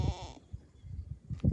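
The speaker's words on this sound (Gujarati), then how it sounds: "finally guys Bakri" A goat bleats loudly and close by in a rural village setting, one drawn-out wavering call at the start followed by a shorter bleat near the end, with quiet rustling between.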